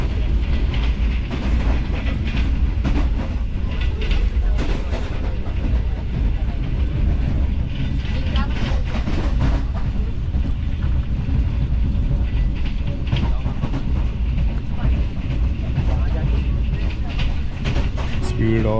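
A Green Line economy-class train runs between Lahore and Rawalpindi at about 87 km/h, a continuous loud interior rumble with rhythmic clickety-clack of wheels over rail joints and a voice speaking over it.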